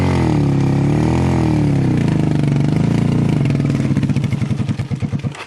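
Motorcycle and vehicle engines roar and labour on a badly damaged access road in the Batcham area of Bamboutos, a loud close drone that breaks into rapid, uneven putting as the engine strains.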